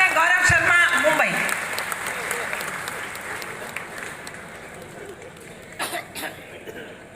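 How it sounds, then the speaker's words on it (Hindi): Loud audience applause for a poet at a Hindi kavi sammelan at Bokaro Club, opening with a voice and a cough, then fading into lighter scattered clapping with murmurs and a few coughs. "आपकी जोरदार तालियां उठे"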